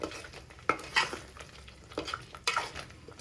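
A spoon stirs thick masala for egg sambar in a pot, giving repeated scraping strokes with light metallic clinks over a soft sizzle.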